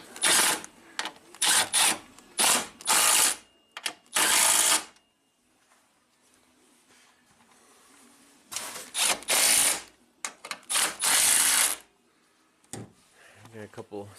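Ratchet wrench on screws of a Maserati being stripped down, a series of sharp rapid clicking bursts in two clusters separated by a quiet pause, close and fairly loud.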